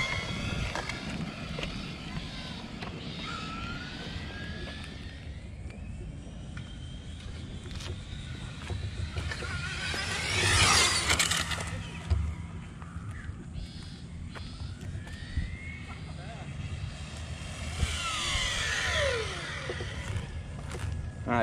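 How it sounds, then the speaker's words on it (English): A Kyosho Mercedes AMG GT3 brushless RC car with a 37-tooth pinion gear drives outdoors, its high electric whine rising and falling as it passes, with a louder surge midway, over steady background noise. "let's go ahead and get this thing, give it its last rip on a 37-tooth pinion gear."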